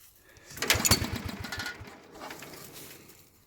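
A homemade tractor engine runs rough and uneven, as if it needs choke. Its loud, rapid chugging rises, then fades and surges again, nearby with no talk.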